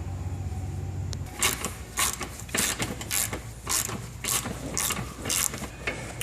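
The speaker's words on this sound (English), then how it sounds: "Once you use the ratchet towards the end, once it's loose, you can go ahead and remove the bolt with your fingers" A ratchet wrench loosens a front bumper fog light bolt on a BMW E46 sedan, producing a close run of about ten sharp, rapid clicking bursts in a quick, uneven rhythm after a brief quiet start.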